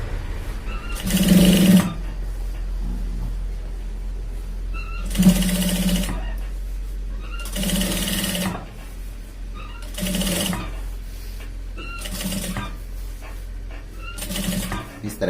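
Sewing machine stitching shirt fabric at a shoulder seam, running in six short bursts separated by quiet pauses, close and fairly loud.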